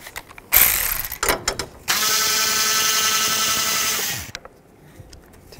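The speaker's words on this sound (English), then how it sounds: "Use a 10 millimeter socket." A 10 millimeter socket ratchets a nut off a bolt during water pump work on a 2010-2017 Chevrolet Equinox, giving a loud, steady buzzing rattle for about two seconds after a few short clicks, then quiet.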